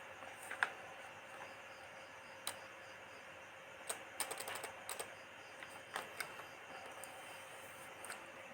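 Soft, scattered clicks of typing on a computer keyboard, irregular keystrokes with occasional quick clusters, faint and close against a quiet room hum.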